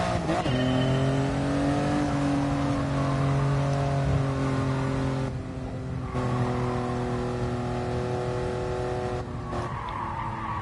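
A Toyota GR Yaris engine in Gran Turismo Sport roars steadily, with pitch rising and dipping through gear changes and tire squeal, no talking.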